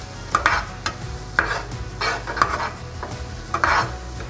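Salt and pepper being stirred into mushrooms in a pan for a vegan mushroom Wellington: four or five scraping strokes in a loose rhythm over a soft sizzle, close and alone with no talk.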